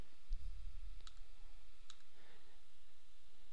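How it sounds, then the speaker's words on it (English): Mouse clicks while working in Microsoft Project, a few faint, sharp single clicks spaced apart over quiet room tone. "just click on its name to select it, and then click the Remove button."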